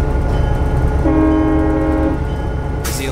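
Train rumbling steadily along in Train Simulator 2017, its low engine drone joined midway by a sustained tonal horn blast, then a brief hiss near the end.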